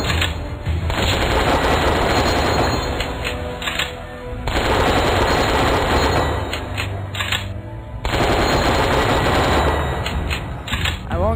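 Machine gun fire in an online shooter game rattles in three long, loud bursts separated by short pauses, dense rapid shots with heavy low booms underneath.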